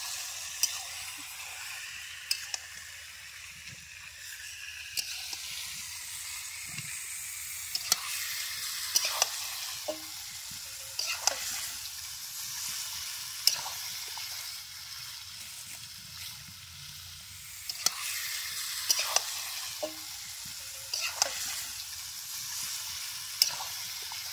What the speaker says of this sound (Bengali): চিকেনটা আমরা ভালোভাবে নাড়াচাড়া করে নেবো, কষিয়ে নেব।